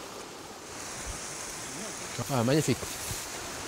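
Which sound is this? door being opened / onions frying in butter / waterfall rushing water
waterfall rushing water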